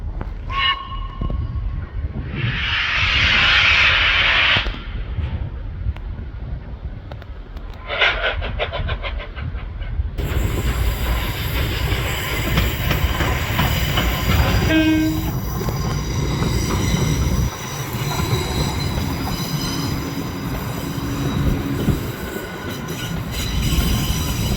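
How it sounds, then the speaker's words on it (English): The Flying Scotsman steam locomotive runs through Perth station, a loud, close passage with a sharp horn or whistle early on, then a sustained rumble of rolling wagons and rail noise with occasional wheel squeal. "It was really awesome seeing this old steam engine running through the train station."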